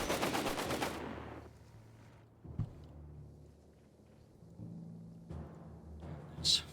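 Heavy gunfire in the World War II strategy game Company of Heroes 3, with Fallschirmjäger troops and FT-42 tanks: a loud burst of rapid shots at the start, then faint scattered distant fire and a few sharp reports.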